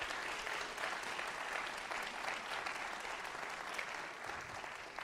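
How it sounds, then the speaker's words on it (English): A room applauds the Honorable Mario B. Avery at a State of the City address, with dense, even clapping that carries on steadily and without a break. "If you would please give the Honorable Mario B. Avery another round of applause."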